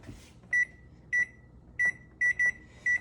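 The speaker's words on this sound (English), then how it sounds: "I'm gonna set the timer for 18 minutes" Oven timer being set for baking bread, six short electronic beeps at uneven intervals, close and clear over a quiet kitchen hum.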